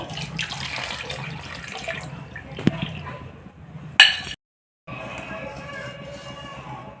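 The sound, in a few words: water poured into cooking pot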